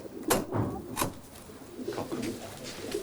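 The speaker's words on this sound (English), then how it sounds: "Pigeons." Pigeons in a racing-pigeon loft give a few soft, low coos close by, then fainter murmuring under quiet background noise. Clicks and knocks sound between the calls.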